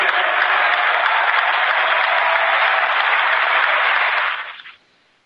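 A political rally crowd applauds Ron Paul's speech with loud, dense, continuous clapping that holds steady for over four seconds, then quickly tapers off into quiet.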